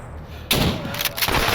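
A single loud gunshot blast in the game Stalker Anomaly cracks out after a quiet half-second, followed by a rumbling, ringing tail and a couple of fainter thuds.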